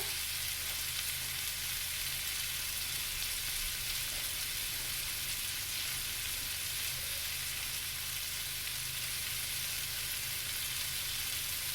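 Garlic and ginger fry in a pan, giving a steady, even hiss of sizzling that continues unbroken and quite close, with no voices over it.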